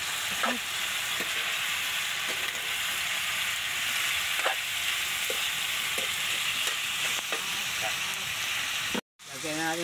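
Field rat meat fries in a pan for adobo, a steady close sizzle running throughout with occasional stirring clicks, then a brief cut near the end.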